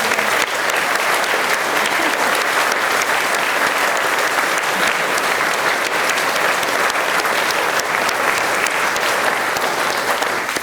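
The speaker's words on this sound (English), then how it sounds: "we're going to give him a clap." A full room applauding at a memorial gathering for a musician, sustained dense clapping that holds steady and loud for about ten seconds with no talk over it.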